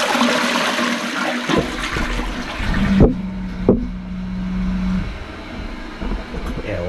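A Saniflo toilet with an incinerator-type pump flushes: a loud rushing, gurgling surge of water with a steady pump hum and a couple of sharp clunks partway through, then the water quiets.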